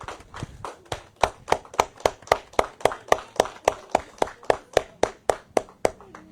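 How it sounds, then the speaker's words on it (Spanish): Church congregation applauding during a Sunday service, a steady rhythmic unison clapping of around twenty evenly spaced claps, fairly close and loud, with no talk over it. "Dale un fuerte aplauso,"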